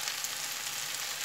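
Vegetables with tomato paste, garlic, salt and pepper being stirred in a pan for a vegan mushroom bourguignon, giving a steady, close, continuous frying sizzle with no gaps throughout.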